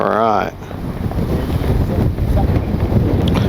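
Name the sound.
wind blowing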